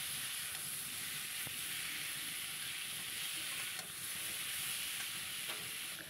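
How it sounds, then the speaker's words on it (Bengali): Potatoes fry in a pan with green chilies, salt and turmeric, giving a steady close sizzle with faint stirring taps throughout. "আলুটা বেশ লাল লাল ভাজা হয়ে এসছে।"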